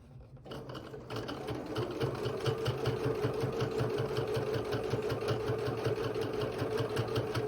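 A sewing machine backstitches a fabric casing with a fast, even mechanical chatter of rapid needle strokes. It starts after a brief quiet moment, then runs steadily and close with no talking.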